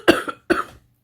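Two close, loud coughs from a woman with a strained, tired voice, each a sharp burst with a short rattling tail, separated by a brief pause.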